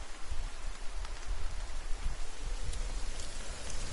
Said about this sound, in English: why is it raining hard?